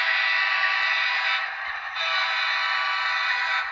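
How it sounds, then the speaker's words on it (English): A model diesel locomotive's sound system sounds its horn: a sustained, reedy multi-tone blast with a brief dip in the middle, heard alone and fairly loud through a small speaker. "Here is the horn."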